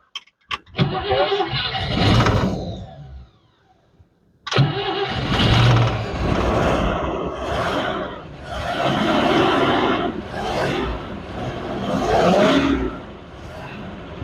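An old drag car's engine starts and runs rough, a loud uneven rumble broken by a short silence, then a steady lumpy idle with surging revs and faint voices.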